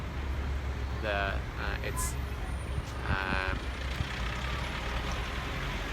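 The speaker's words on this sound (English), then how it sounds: "also you can see this traffic jam" Evening traffic jam on a busy street in Novosibirsk, Siberia, with a steady low rumble of idling trucks and buses, brief hisses and higher engine whines rising over the drone, and a person talking intermittently nearby.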